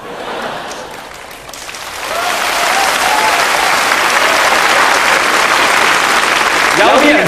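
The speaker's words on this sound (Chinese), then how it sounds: "有啲人拍手掌咧" Audience at a 1995 Hong Kong stand-up comedy show breaks into applause, starting thin and swelling into sustained, dense clapping that fills most of the stretch.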